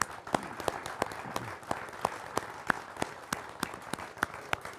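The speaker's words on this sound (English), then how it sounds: "let's give him a round of applause" At a veterans' coffee gathering in North Carolina, a seated audience gives steady, moderately sparse applause to a young national anthem singer, scattered individual claps standing out against a soft roomy wash, heard from a little distance.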